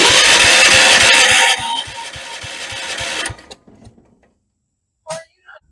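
Kohler K301 engine on a 1976 Vermeer LS200 log splitter, corroded, cranks over with a loud, rapid mechanical chugging that slows, drops off and stops, then a short faint knock.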